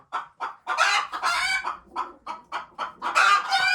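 A chicken clucks repeatedly in short, loud bursts close by, with a few longer squawking calls mixed in.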